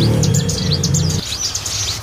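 Ciblek gunung songbirds chirp in quick, repeated high calls at a bird kiosk, steady and fairly close, while a low murmur underneath drops away partway through.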